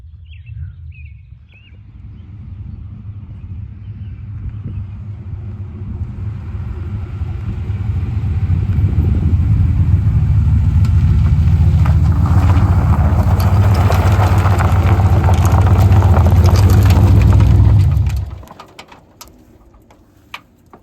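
A car engine roars and revs hard during a burnout, building from a low rumble into a loud sustained howl that cuts off abruptly near the end, with faint background noise before and after.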